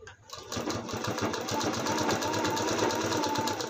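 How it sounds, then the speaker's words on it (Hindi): A sewing machine stitches piping along the edge of a long-sleeved blouse, a close, fast, steady whirring run that starts abruptly and holds for several seconds with no talk. "यहाँ बिल्कुल किनारा से एक सिलाई लगाएंगे"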